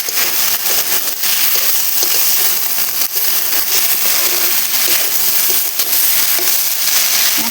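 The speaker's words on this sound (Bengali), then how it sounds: "মশলাটা একটু ভালো করে কষিয়ে আমি তারপরে বাকি সবজিগুলো দিয়ে দেবো" A spice paste with turmeric is stir-fried for a red amaranth and dried Bombay duck dish, a loud, dense, close sizzle that stays steady throughout with faint crackles and stirring clicks and no speech.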